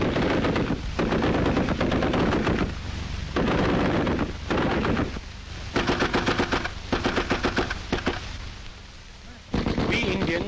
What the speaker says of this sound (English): Guns and more guns in bewildering variety.